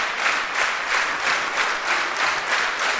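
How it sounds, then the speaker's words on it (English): A packed standing-room wrestling crowd in Toronto claps and cheers for a women's match, steady applause swelling in rhythmic waves with no voices standing out. "Fans encouraging her here."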